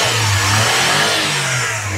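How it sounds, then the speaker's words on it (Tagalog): Engine of a fully custom overland camper van revving steadily and loudly up close, a continuous throaty mechanical roar with no talk over it. "Ganda ng tunog ng makina, di ba?"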